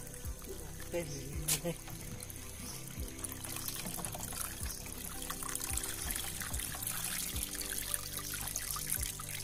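Water draining and trickling out of a wet cloth bundle full of holes, a soft, uneven stream of dribbles and drips heard up close, with people talking faintly in the background.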